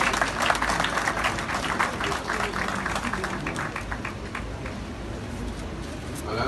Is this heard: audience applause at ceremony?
yes